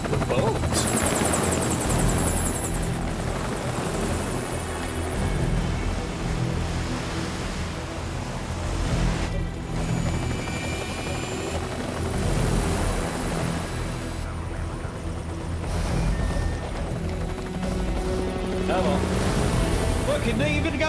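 Helicopter rotor and engine noise from the video game Metal Gear Solid 4, a loud continuous thrum with intermittent gunfire-like bursts, persisting under talking for the whole stretch.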